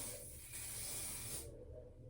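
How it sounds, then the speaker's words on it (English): A close, steady hiss of a spray bottle misting hair spritz over a wig for about a second and a half, then cutting off, leaving quiet room tone. "I'm going to spray a little bit of spritz."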